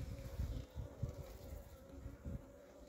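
Carniolan F1 honeybees buzz around an opened hive box being prepared for winter, a close, continuous hum of many wings with small swells, fairly faint and without talk.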